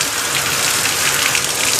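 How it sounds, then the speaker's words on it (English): Kitchen sink sprayer rinsing blueberries in a strainer, a loud close steady hiss of water spray that runs continuously without pause. "I use the sprayer to rinse over the blueberries"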